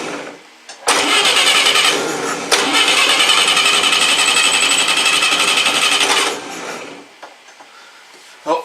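An outboard boat engine cranks and catches after a brief lead-in, then runs loud and rattly for about five seconds, stutters once early, and cuts off into quiet, recorded close.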